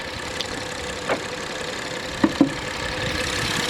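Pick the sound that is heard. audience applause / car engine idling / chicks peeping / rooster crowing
car engine idling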